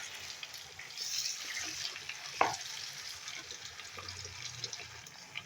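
Lemon pieces, salted and left to soak three days, frying in oil for pickle while being stirred; a steady soft sizzle with a sharp scrape or clink near the middle and faint spoon movement throughout.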